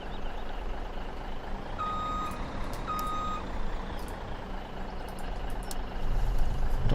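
Steady reversing beeps sound from a truck in Farming Simulator 17, repeating at an even pace over a continuous engine drone, with no talking.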